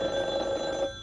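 A telephone rings indoors with a steady electronic bell tone that holds for about a second and then cuts off.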